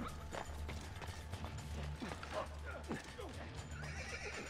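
In the video game Assassin's Creed II, a horse neighs amid clattering hooves and mechanical noises, with several shrill whinnies rising over a low rumble while voices talk.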